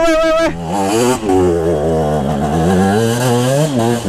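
An enduro dirt bike engine rides up through throttle blips, its loud, close buzzing pitch climbing and dipping in short revs with a brief drop near the middle.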